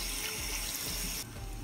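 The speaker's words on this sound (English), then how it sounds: "The water's gonna fill up right there." Water gushes steadily into a goldfish tank being refilled during a water change, a loud, close, continuous broadband rush that thins abruptly near the end as the flow is cut back, with no talking.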